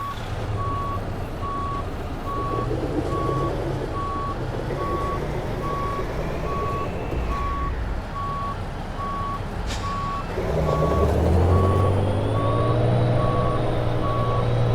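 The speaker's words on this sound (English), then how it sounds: "The load is just too heavy for what this Cummins 500 horsepower can do." Truck with a Cummins 500 hp engine straining under a heavy load in American Truck Simulator, a loud continuous engine drone under a steady reversing beep that rises in intensity near the end.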